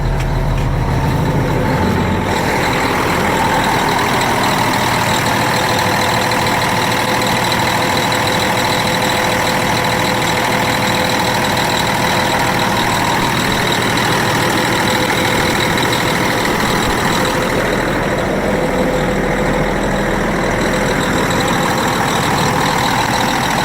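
A 2007 Peterbilt 357 dump truck's diesel engine idles steadily and close by, a continuous low rumble with a constant hum that holds evenly throughout, with no voices.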